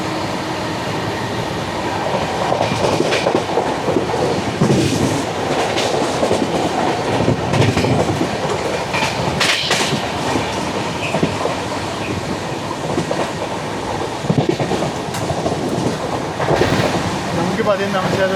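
The 16315 Mysuru–Thiruvananthapuram North Express runs along steadily, a continuous rumble of carriages and rail noise with faint rhythmic clatter throughout, heard from on board.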